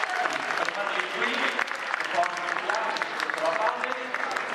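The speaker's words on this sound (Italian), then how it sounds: "Applauso, applauso." An audience applauds Special Olympics athletes at a school event, with steady, sustained clapping throughout and voices talking over it.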